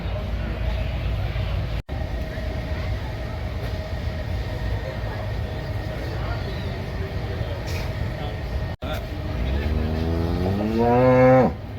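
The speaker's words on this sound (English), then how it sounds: "A whole mess load of cows here." Cows mooing in a crowded state fair cattle barn, long low moos over a constant din of barn noise and fans, with a rising, wavering call near the end.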